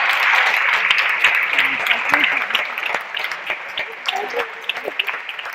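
Audience applause at an academic session of the Colegio de Ciencias y Humanidades, a steady wash of clapping throughout with voices talking over it, fading slightly toward the end.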